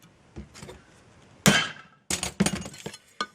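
Sharp metallic taps from a hammer striking a center punch on metal for a portable stove, one hard hit followed by a cluster of quicker strikes, close and ringing.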